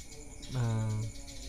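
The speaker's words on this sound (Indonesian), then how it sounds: "Ini burung gereja ya. Udah mulai bunyi jam segini." A house sparrow chirps once at dawn before the morning prayer call, a single short, fairly clear call standing out against a faint, steady background hum.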